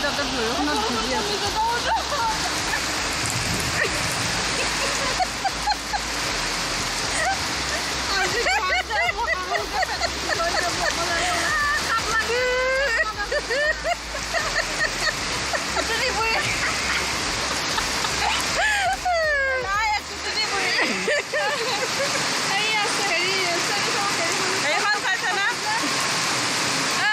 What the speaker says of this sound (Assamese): তাতে বৰষুণত ভিজি আছে